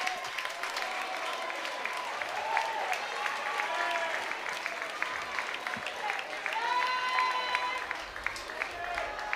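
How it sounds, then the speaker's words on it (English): A college baseball crowd at a Duke vs Murray State game rises in a standing ovation, sustained applause and crowd noise rolling steadily with scattered cheers and voices throughout. "And the crowd giving him a standing ovation."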